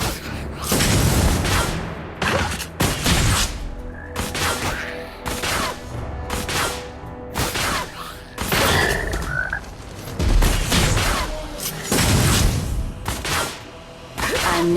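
Repeated sharp gunshot bursts from the mobile game ROV (Arena of Valor) crack out in quick irregular volleys over busy game music and effects, loud and close throughout.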